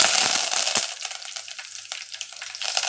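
Dried red chillies and curry leaves frying in hot oil, a bright, crackling sizzle that starts loud, then settles into sporadic pops and spits near the pan, with no talking.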